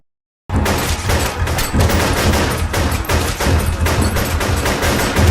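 Sustained AK-47 automatic rifle fire rattles nonstop after a brief silence, loud and close, with dense rapid bursts and booming echoes.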